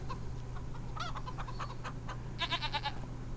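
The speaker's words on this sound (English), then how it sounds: "And our goats are doing good." Goats bleat in short bursts over a steady farmyard hum, with chickens clucking alongside and a cluster of calls near the end.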